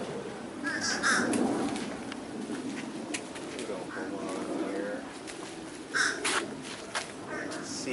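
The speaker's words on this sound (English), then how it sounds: "Gulls and crows, everybody's in here." Crows and gulls calling inside an aviary at a garden bird park, repeated caws and cries scattered over steady background bustle, with people talking nearby.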